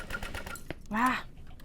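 A sewing machine stitching a bowler bag as its bobbin runs out, giving a quick rattling burst of stitches followed by a short whirr, with a voice speaking close by.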